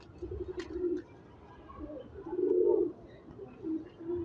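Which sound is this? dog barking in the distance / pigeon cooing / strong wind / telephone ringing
pigeon cooing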